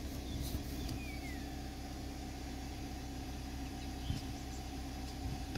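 Air suspension compressor of a 2015 BMW X5 F15 running steadily, a faint continuous hum and drone with no talking.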